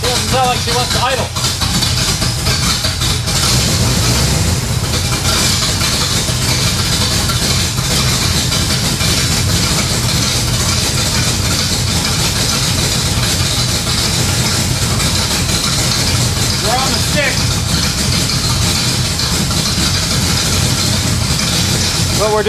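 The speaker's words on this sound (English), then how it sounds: "It doesn't sound like she wants to idle." A Pontiac LeMans Sport engine runs continuously at a rough, unsteady idle, loud and close, while a person talks over it.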